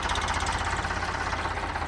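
A Farmtrac tractor engine runs steadily at close range with a loud, continuous knocking diesel chug, like idling, alone without voices.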